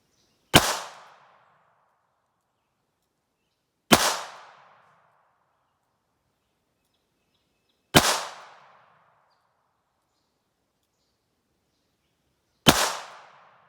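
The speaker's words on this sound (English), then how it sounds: "And I am shooting double action." A Ruger LCR revolver chambered in .327 Federal fired double action outdoors, four loud sharp shots spaced about four seconds apart, each with a brief decaying tail and silence between.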